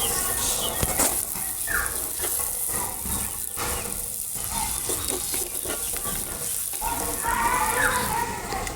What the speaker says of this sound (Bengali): পেঁয়াজ রসুন খুব সুন্দর করে ভাজা নিছি।